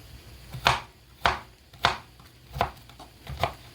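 Five or six knife strikes land on a cutting board at an even, unhurried pace, each a crisp thud, moderately close and with no one speaking.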